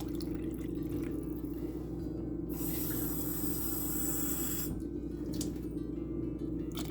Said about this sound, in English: I'm going to add 1 full cup of warm water